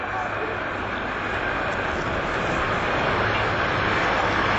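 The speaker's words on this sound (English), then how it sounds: "He's landing well up the runway because he's got the 2000 coming in behind him." A jet aircraft lands at the Farnborough Airshow in 1992, giving a steady, broad engine roar that holds fairly loud throughout, with commentary over it.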